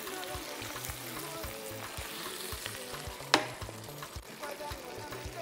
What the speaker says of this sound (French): comme vous pouvez le voir, c'est en train de mijoter